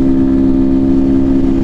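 Honda Bros 160 motorcycle running without its air filter, a loud, steady, droning engine note held close and continuous throughout with no pauses.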